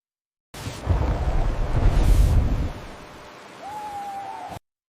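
Deep rumbling thunder rolls over heavy storm noise with gusting wind and waves at sea, swelling loud then easing; a faint whistling tone rises near the end.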